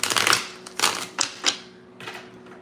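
Lenormand cards being shuffled by hand in a few quick bursts of riffling and slapping, close and crisp with short pauses in between.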